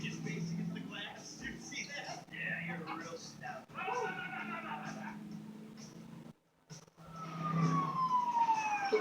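A police siren in GTA 5 wails in the background after a bank robbery, partly masked by people talking over it, then rises more clearly toward the end.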